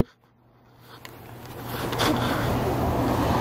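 A Nissan GT-R passing on a street comes up from near silence into a broad, rising road and engine rush that stays loud to the end, with a voice briefly heard early on.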